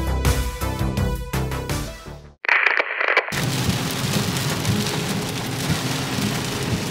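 Heavy rain pours down outside, a dense steady roar of water that takes over abruptly after some brief, clearer sounds and then stays loud and constant.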